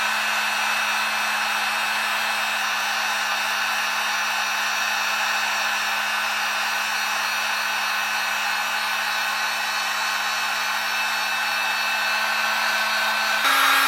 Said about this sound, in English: We're going to first put the heat gun to a low setting.